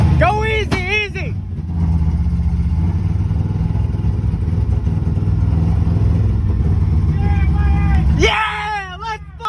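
A 5.7 Vortec engine roars loudly and steadily after a timing adjustment, while excited voices shout just before and after the revving.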